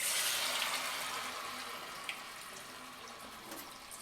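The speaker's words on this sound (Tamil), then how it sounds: "இதை டீப் ஃப்ரை தான் பண்ண போகிறோம்" Maida-coated samosa spin wheels dropped into hot oil give a dense, bright bubbling hiss that is loudest at the start and eases steadily, with a few small pops standing out.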